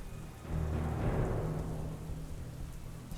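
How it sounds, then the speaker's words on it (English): Rain falls steadily with scattered splashes landing inside a neglected, run-down building, a broad wet hiss over a low rumbling bed with no voices. "the occasional splash of rain that lands on the inside from the unmaintained building"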